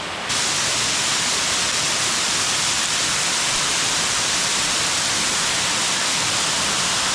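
A waterfall pours through a rocky gorge in Slovenia's Tolminka valley, a loud, unbroken rushing roar of water that holds steady throughout without any talking.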